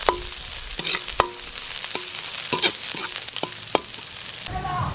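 Beef sautéing in a pan: a steady sizzle of frying meat broken by repeated sharp scrapes and taps of a utensil stirring, all fairly close with no talking.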